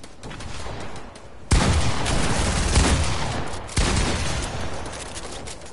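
Dense bursts of gunfire in Fortnite, loud and close, with a sharp volley starting partway through and a second burst near the end, continuous rattling shots over a steady background.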